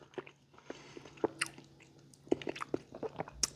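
Someone eats a Chipotle bowl with a hot sauce, biting into something with a chip-like crunch; a string of close, distinct crunchy bites and chewing sounds comes in short bursts with no talking.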